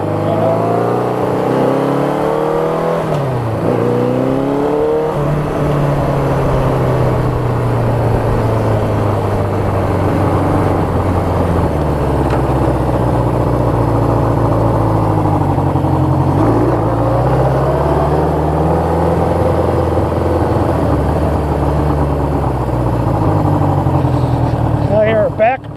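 A Suzuki bobber motorcycle engine runs continuously and close, its tone rising and falling as the rider works a clutch that only engages when fully released, with voices talking over it.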